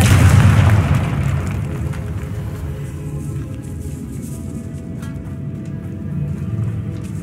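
A magical explosive blast from the Confringo spell in the video game Hogwarts Legacy, a loud booming burst at the start that fades into a low rumbling tail.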